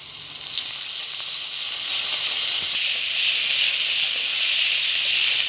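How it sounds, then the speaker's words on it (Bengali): Spice paste of chopped onion, green chili, turmeric, garlic, cumin and dried chili paste sizzles and hisses steadily in hot oil in a pan, a continuous close frying sound with no talking. "মশলাটা আমার ভালো করে ভাজা হয়ে গেছে"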